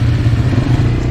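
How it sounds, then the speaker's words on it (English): A Chinese Daytona TTK200 dual sport motorbike rides through the streets of Vientiane, Laos, its engine giving a steady, close, loud mid-pitched drone for about a second. "all there is to show you is a few clips of me riding it around the streets of Vientiane"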